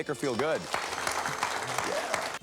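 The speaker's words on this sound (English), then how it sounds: "All this applause is for you." Audience applause in a seminar hall, following a group hypnosis session, runs as a steady wash of clapping beneath someone speaking at the start.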